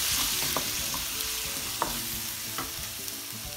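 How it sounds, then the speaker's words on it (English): Tomato and onion fry in a pan for dal palak, with a close, steady sizzle broken by several sharp spoon-stirring scrapes and clicks, and no voices. "Now I'm gonna add my tomato. And I will add some salt to cook the tomato and onion together."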